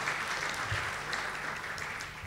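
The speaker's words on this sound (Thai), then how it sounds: "เราจึงขอต้อนรับท่านวิทยากรทั้งสองท่านอีกครั้งหนึ่งด้วยเสียงปรบมือค่ะ" An audience at a Thai lecture claps to welcome two guest speakers, with moderately loud, continuous applause from a roomful of people and no speech over it.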